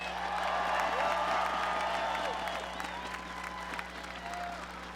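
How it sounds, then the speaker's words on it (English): A large crowd applauds Pittsburgh Penguins players at the 2017 Stanley Cup parade, a broad wash of clapping with scattered whoops, heard from some distance over a steady low hum and a faint whistle-like tone. "Let's give them a round of applause."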